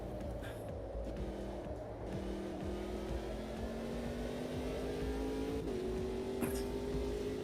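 LMP1 prototype race cars in a racing video game, a continuous engine whine rising in pitch as they accelerate, with a quick gear change near the end, heard at a low level without speech.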